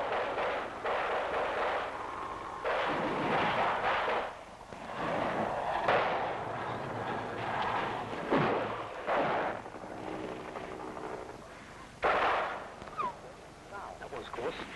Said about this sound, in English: Still receiving sporadic small arms fire.